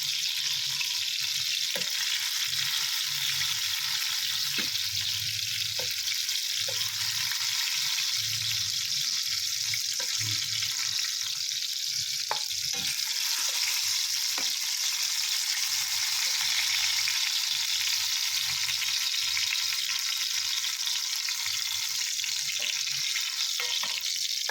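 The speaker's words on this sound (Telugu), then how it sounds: "మంచి మృదువుగా మెత్తగా వేయించుకోవాలి" Eggplant pieces frying soft in a pan, a steady dense sizzle throughout with occasional stirring clinks and scrapes, close and continuous with no talk.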